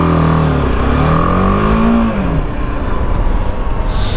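A BMW G 310GS single-cylinder motorcycle accelerates in first gear, its engine note rising loudly and close in pitch, then dropping into a rougher rumble as the revs fall.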